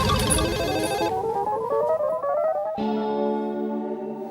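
A warbling electronic ringtone plays steadily and loud, its tones rising in a sweeping pattern before shifting to a flatter, sustained pitch near the end.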